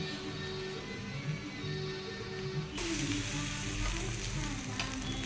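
Beetroot paratha roasting on a hot pan, a steady close sizzle that grows louder and brighter halfway through as fat hits the pan, with faint scraping, no talking.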